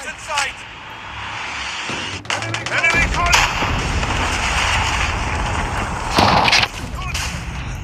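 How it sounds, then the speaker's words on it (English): Predator missile strike in a Call of Duty match lands amid steady rattling gunfire and booming blasts, with a heavy broadband impact about three seconds in and another loud burst near the end; in-game voices call out over the din. "Friendly predator missile inbound."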